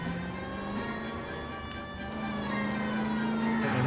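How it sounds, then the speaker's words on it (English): A wailing police siren in L.A. Noire rises and falls steadily under a car engine during a chase, loud and close, with no talk. "we'll get the sirens going"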